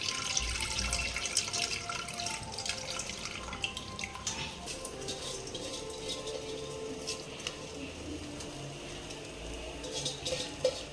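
Cooking water being drained off while making chicken biryani, a steady wash of splashing, trickling water running for several seconds, moderately loud and close, with no talking.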